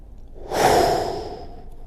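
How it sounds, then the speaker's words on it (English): One long, deep breath during a golf stretching routine, a close, airy exhale that swells in the middle and then fades into quiet. "2 more deep breaths here."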